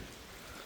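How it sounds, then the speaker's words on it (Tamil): Steady soft rain patters outdoors at a quiet, off-season stop on the way to Adam's Peak in Sri Lanka, a faint continuous hiss with no voices. "மழை பெய்யுது விடுது பெய்யுது விடுது"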